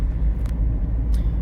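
Volkswagen Paraty 2005 with an AP 1.8 engine and about 206,000 km, heard from inside while driving: a steady low engine and road rumble with a couple of faint higher hisses, no talking.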